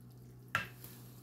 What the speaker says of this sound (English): I'm going to mix it.